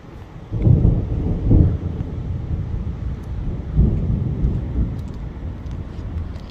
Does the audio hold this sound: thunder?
yes